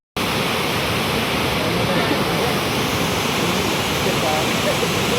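A loud, continuous roar of Bhivtas waterfall in Surgana taluka, dense and unbroken throughout, close by and filling the whole sound.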